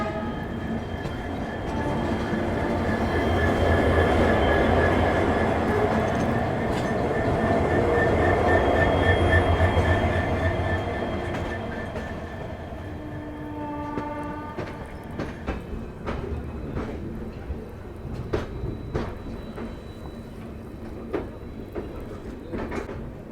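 An Uttar Sampark Kranti Express sleeper train rolls along near Jammu Tawi with a loud continuous rumble and hum that eases off, followed by rhythmic clicks and clacks of wheels over the rail joints.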